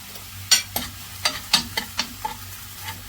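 Ginger garlic paste frying in a little oil in a home kitchen, with a soft sizzle under a series of about nine distinct scraping stirs of a spoon against the pan, close and fairly quiet.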